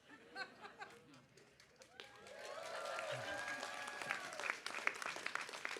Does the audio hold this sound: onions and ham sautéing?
no